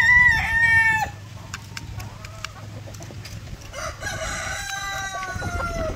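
A bulik gamefowl rooster crows once, loud and close, for about a second, followed by quieter farmyard clucking and a second bird's calls with a low background hum.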